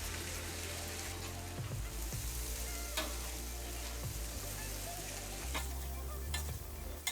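Rice and thin noodles frying in a pot, a steady quiet sizzle broken by repeated scraping strokes of a spoon as they are stirred.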